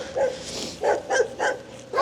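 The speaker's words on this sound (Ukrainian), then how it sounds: "На нас гавкають." Yard dogs bark at people passing on the street, four or five sharp barks at an uneven pace, fairly loud and near, with no talk over them.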